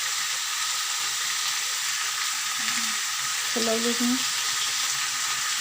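Chickpeas stirred and fried in a pan give a continuous loud sizzle with occasional scraping, and a brief voice speaks over it near the end.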